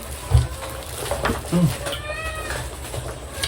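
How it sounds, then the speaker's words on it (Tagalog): Cats meow a few times, one short high cry and a wavering call, over background chatter and room noise. "Yung pusa ko nakakaloka ang ingay ng mga pusa"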